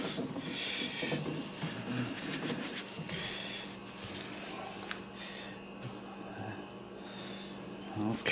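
Steady rubbing of finish into a wooden rifle stock, a continuous soft scrubbing and swishing close up, with brief faint voices now and then.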